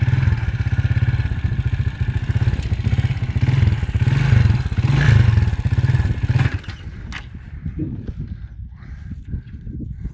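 A motorcycle engine in a village setting runs steadily with a loud, throbbing low rumble close up, then drops abruptly to a quieter, sputtering idle near the end.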